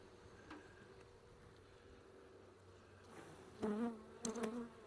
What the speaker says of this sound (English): there's a ton of, a ton of bees in here.